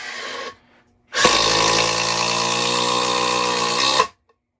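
A Makita impact driver drives a fastener in one sustained burst of about three seconds, a loud rapid hammering buzz that starts and stops abruptly, after a short earlier burst of motor noise.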